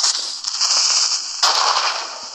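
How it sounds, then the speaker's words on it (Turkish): A creeper blows up in Minecraft, a loud, close blast with a sizzling hiss that swells again into a second burst, with no voices over it. "Bak ilk defa creeper patlattım diye seviniyorum"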